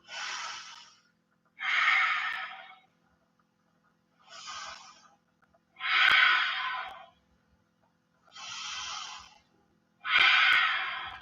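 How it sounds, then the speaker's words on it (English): Slow, deep breaths during a yoga session come in six evenly spaced breathy whooshes, alternating inhales and exhales with near silence between them, close and clear. "Take 3 more deep breaths here"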